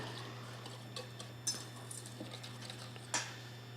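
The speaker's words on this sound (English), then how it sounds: "Whisk that around a little bit." A whisk stirring vinegar dressing in a bowl makes faint, irregular metallic ticks and clinks, with two sharper taps, over a steady low hum.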